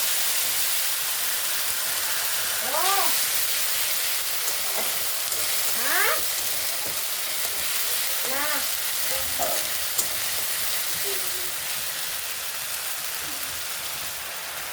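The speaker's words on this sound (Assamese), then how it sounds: "ইয়াতে মই মিক্সিত পেষ্ট কৰি লোৱা আদা, নহৰু, পিঁয়াজৰ পেষ্টখিনি এতিয়া এড কৰিলোঁ" Ginger, garlic and onion paste, with black cumin, sizzles in a hot pan in a steady, even hiss that runs the whole time, with a few faint chirping tones drifting over it.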